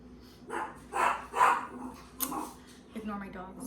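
A few dog barks and yips sound in a home kitchen where drinks are being mixed, clustered in short bursts near the middle, mixed with someone talking nearby.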